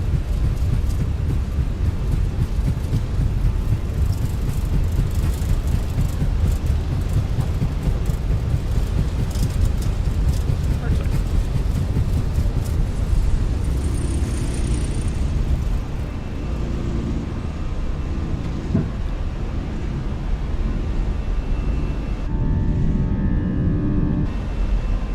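Airliner engines roar steadily through a takeoff roll from Frankfurt, a dense low rumble with wind noise heard from inside the cockpit, easing slightly near the end.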